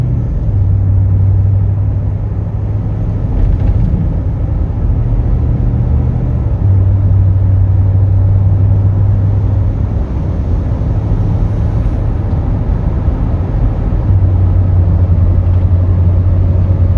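A 2019 Ford F250 flatbed truck drives along with a continuous loud, low engine and road rumble heard from inside the cab, steady throughout with slight drones rising and falling and no talking.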